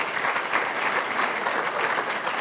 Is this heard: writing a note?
no